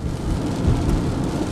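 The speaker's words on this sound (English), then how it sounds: "We're on our way to town in the rain." Heavy rain downpour heard from a vehicle on the way to town, a dense, steady, rumbling wash of rain that stays loud and unbroken through the short moment.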